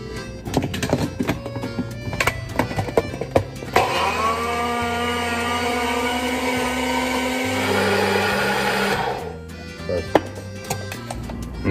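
A countertop blender roars steadily for about five seconds, puréeing berries, juice and protein powder into a smoothie, framed by clattering kitchen knocks and taps before and after.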